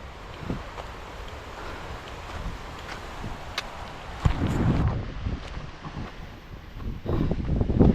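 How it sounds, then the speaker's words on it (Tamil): Strong wind gusts buffet the microphone on a hillside trail toward Dindigul, a rough, roaring rumble with sharper bursts midway and near the end. "காற்று அந்த புறம் அந்த திண்டுக்கல் திசையில் தான் பயங்கரமான காற்று அடிக்குது"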